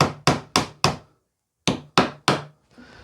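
A hammer tapping nails back through pallet wood in two rhythmic bursts of three sharp knocks, separated by a short pause, close and loud.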